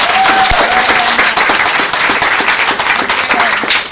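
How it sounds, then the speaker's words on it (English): A seated audience at a testimony event gives loud, continuous applause that fills the whole clip, with a faint tonal line running beneath the clapping. "I think you guys deserve a round of applause for being here"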